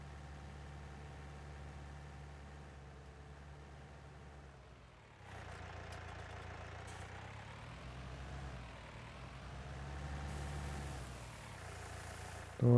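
A tractor pulling a loaded trolley in Farming Simulator 20, a steady low engine drone that strains and rises slightly partway through, continuous and moderately quiet with no talking.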